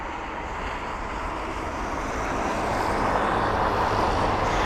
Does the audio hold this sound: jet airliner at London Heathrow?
yes